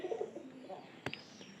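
A pigeon coos softly and briefly at close range, a faint low call, followed by a short sharp tap or flutter.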